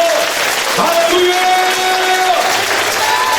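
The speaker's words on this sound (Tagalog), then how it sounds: "Isa nga pong malakas na palakpak," A church congregation claps loudly and steadily during worship, a dense sustained roar of hands with voices and tonal sounds rising over it.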